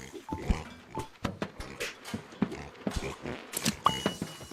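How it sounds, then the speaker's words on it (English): Several pigs oink and grunt as they escape in a video game, with quick repeated snorts and squeals close by amid scuffling footsteps and faint voices. "All the pigs are getting out."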